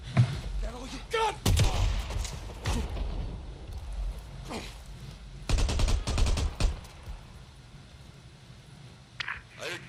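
Gunfire crackles in the video game Days Gone, with bursts of sharp shots and rapid volleys spread irregularly across the scene, mixed with game voices and ambient sounds.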